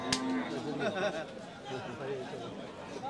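Bullocks at a busy cattle market in Mirsharai, with a brief low moo near the start set against constant crowd chatter and bargaining voices.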